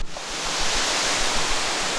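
Artificial waterfall cascading down a 35-metre man-made mountain inside a glass-domed garden in Singapore, a steady, loud broadband roar of falling water with no speech.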